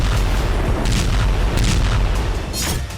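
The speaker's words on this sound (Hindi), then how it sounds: "एयर डिफेंस से फायरिंग शुरू हुई, दनादन मिसाइलें दागी गई" Air defense opens fire over Crimea as missiles launch: a dense barrage of heavy booms and thuds, loud and continuous, with sharper bursts cracking through the rolling rumble.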